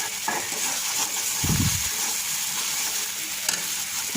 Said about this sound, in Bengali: এখন সব উপকরণগুলো তেলের মধ্যে একটু ভেজে নিচ্ছি।